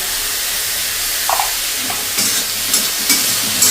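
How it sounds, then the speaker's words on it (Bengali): Mushrooms sizzle steadily as they are stir-fried in a pan with salt and turmeric, a loud continuous frying hiss broken by a few scrapes and stirring knocks from a spatula. "এইভাবে নেড়ে চেড়ে একটু ভেজে নেব যতক্ষণ এর কাঁচা গন্ধটা যাচ্ছে ততক্ষণ আমি ভাজবো"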